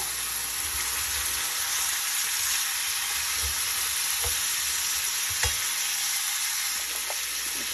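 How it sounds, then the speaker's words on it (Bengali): Garlic and flat beans frying in a pan, a steady soft sizzle with occasional stirring clicks and scrapes close by. "রসুনটা একটু ফ্রাই হয়ে গেলে শিমটা দিয়ে দেবো"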